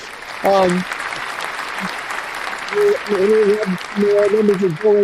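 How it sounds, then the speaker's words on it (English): Applause on a live-streamed show, a steady wash of clapping with voices speaking over it at intervals, close and fairly loud. "Round of applause to you."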